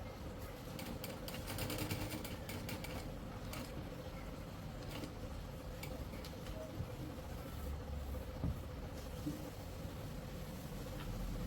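A sewing machine stitches fabric for a boutique band strip, a steady continuous mechanical whir that runs the whole time at moderate level with occasional faint clicks.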